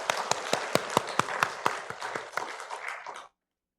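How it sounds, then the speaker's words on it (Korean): A congregation at a Sunday church service claps after a choir's hymn, distinct individual claps standing out in an uneven rhythm that thins and stops after about three seconds. "영광의 박수 올리겠습니다."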